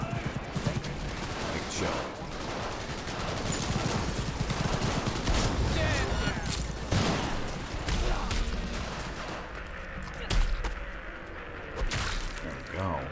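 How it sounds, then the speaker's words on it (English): Sustained full-auto gunfire in Cyberpunk's Night City rattles on in rapid bursts for most of the stretch, moderately loud, while a person talks over it briefly. "Who's just firing a full auto gun down here?"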